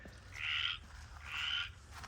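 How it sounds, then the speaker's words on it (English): A frog croaks somewhere out back, giving two drawn-out, raspy calls of about half a second each, separated by a short pause, fairly clear above a low steady background rumble with no talking. "there's a crazy frog back here somewhere"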